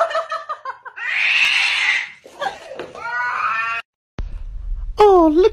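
A small kitten meows in several high, close, loud cries, with the longest calls in the final seconds between rustling and handling noises.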